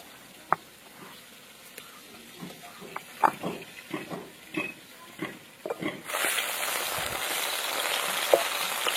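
Koi fish fry in mustard oil in a wok, first as scattered sharp spits and pops, then as a sudden loud, dense, continuous sizzle over the last few seconds, close by.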